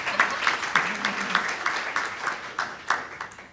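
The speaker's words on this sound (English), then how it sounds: "Applause." Applause from a health care council audience, a moderate patter of individual claps with distinct sharp hits scattered through a few seconds, fairly close.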